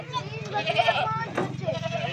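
Goats and their young kids bleating at a livestock market in Okara, several overlapping calls close by, with someone talking throughout.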